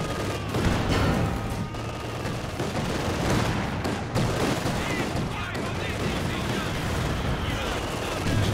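Heavy mortar shelling and battlefield gunfire in Company of Heroes 2, a dense, continuous barrage of booms and crackling shots at steady loudness throughout.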